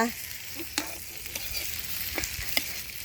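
Cheese meatballs stir-frying with chili and garlic in a hot pan for Thai kraphao, a steady close sizzle broken by scattered scraping stirs of a spatula, with no talking.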